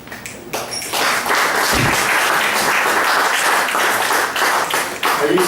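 After a poem, a poetry-reading audience claps in a sustained, dense round of applause that swells quickly and holds steady at a loud level, with brief talk at the start.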